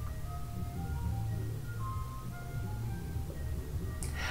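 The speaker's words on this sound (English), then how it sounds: "Now this ice cream truck know damn well there ain't no kids in this neighborhood." An ice cream truck passing through a neighborhood, its chiming melody playing steadily over a low engine rumble at moderate distance.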